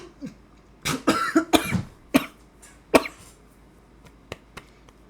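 Several sharp coughs in an irregular cluster, close and fairly loud, followed by a few faint clicks and quiet pauses.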